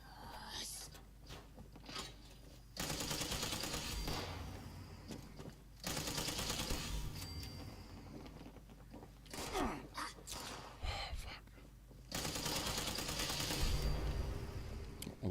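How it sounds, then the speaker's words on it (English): Enemy gunfire in Fallout 76, rapid rattling bursts coming in several separate volleys with short gaps between them, moderately loud and mixed with game noise, while a voice talks at points. "Son of a bitches are shooting me everywhere."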